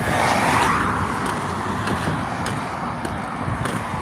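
Cars passing by on a loud road, a close swelling whoosh of traffic that fades into a steady roadway rumble with further vehicles going by.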